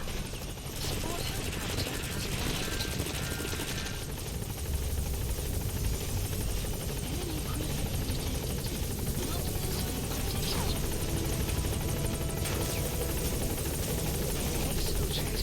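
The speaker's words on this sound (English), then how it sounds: "So glad that those guys just don't care about the helicopter." Rotor drone of a helicopter during a video game extraction mission, a steady loud wash of engine noise running the whole time with game voices and combat chatter over it.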